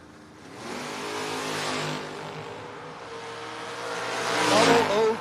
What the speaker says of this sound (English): Rolling up in his 68 Camaro